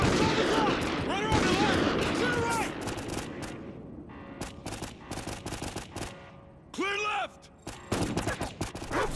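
Sniper gunfire in Call of Duty: Ghosts, shot from a remote sniper before a breach, with sharp loud cracks and bursts of rapid fire amid combat noise, some shots isolated and others in clustered volleys, while voices speak briefly.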